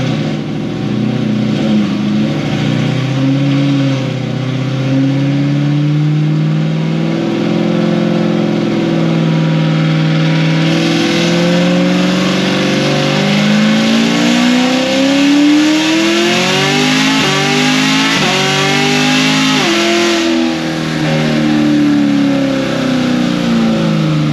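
A loud car with a D1X supercharger accelerates hard close by, the engine note climbing through fourth, fifth and sixth gear, each shift marked by a brief dip before the pitch sweeps up again, with supercharger whine layered over the roar.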